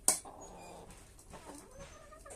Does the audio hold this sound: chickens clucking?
yes